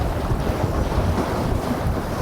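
Boat trolling for walleye on a choppy lake, with steady wind buffeting the microphone and waves slapping the hull in a dense, loud, continuous rush.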